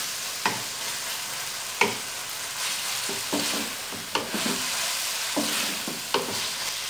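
Green chili pieces fry in a pan over a medium-high to high flame for chicken pasta, giving a constant hiss of sizzling oil broken by several close clinks and scrapes of a spoon stirring, with no talking.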